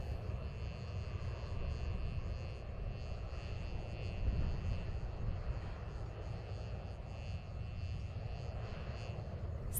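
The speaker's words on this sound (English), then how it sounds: "today's certification hot fire of an RS-25 rocket engine on the Fred Haise Test Stand at NASA's Stennis Space Center" An RS-25 rocket engine runs a certification hot fire on the Fred Haise Test Stand at NASA's Stennis Space Center, heard as a steady, distant, broadband roar that holds constant throughout.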